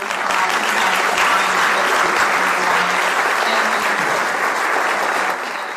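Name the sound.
big round of applause for the speaker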